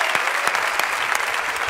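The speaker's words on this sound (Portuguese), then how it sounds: "Vamos aplaudir" Strong, sustained applause from a studio audience and a panel of 100 judges fills the room after a contestant sings on a televised singing competition, dense and unbroken throughout.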